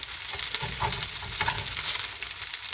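Crispy, golden Korean fried rice pressed like hash browns in a pan, scraped and stirred with a metal spatula: loud, close frying hiss with rough rhythmic scrapes throughout.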